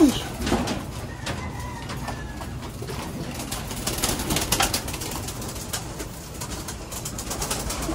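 Pigeons coo softly and continuously inside a pigeon loft in the morning, with occasional rustling and shuffling among the birds.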